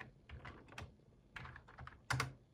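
Computer keyboard typing on a Windows 7 PC: several short bursts of quick keystrokes, close and fairly quiet, ending with a sharper louder clack, with no talking.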